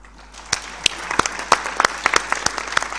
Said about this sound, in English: So a hand of applause for the panelists.